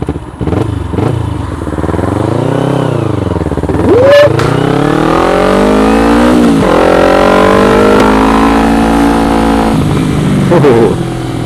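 A vehicle's exhaust revs loudly and close by, rising and falling in pitch with a clattery engine note that holds steady between several throttle blips.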